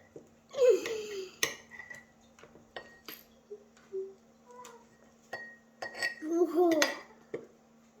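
A spoon scooping cookie dough in a bowl: scattered close clinks and scrapes of metal against the bowl, spread unevenly over the clip, with brief voices speaking between them.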